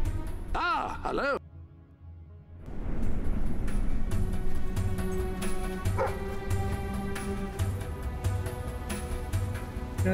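A dog in the Fable III video game gives a pair of short, yelping barks near the start, followed by steady in-game ambience and movement noise.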